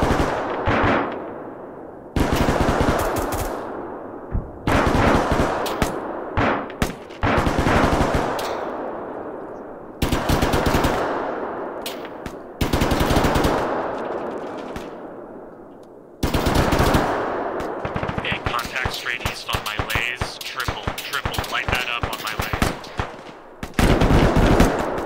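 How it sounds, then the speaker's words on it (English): Heavy gunfire from the Arma 3 combat game, with rapid machine gun bursts and single sharp rifle shots. The bursts come in loud repeated volleys separated by short gaps, growing dense and sustained toward the end. "Taking sniper fire again from the south, southwest."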